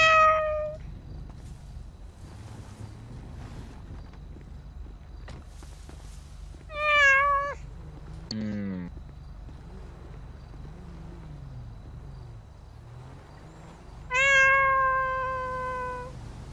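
A cat meows three times with clear, drawn-out calls spaced several seconds apart, close and loud against a low background hum.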